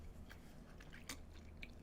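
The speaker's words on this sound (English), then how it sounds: "let me finish chewing my taco" Someone chews a delivered taco close to the microphone, with quiet, soft squishy bites and a few small crunches over a low steady background hum.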